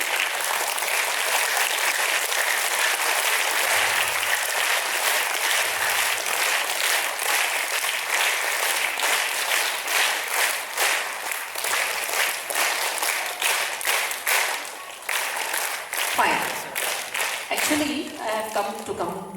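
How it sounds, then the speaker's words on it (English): Sustained audience applause at a youth parliament event in a school hall, dense clapping going steadily for most of the stretch before thinning into a few scattered claps and voices at the end. "we have to give a cheer-up clap to the team"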